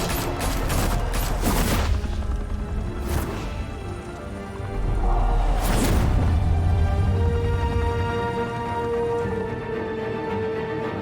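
Bursts of gunfire in the Batman: The Telltale Series video game, set at a high-rise mafia hangout in Gotham: rapid volleys crack out in clusters with heavy low booms, loud and close, continuing for about eleven seconds without speech.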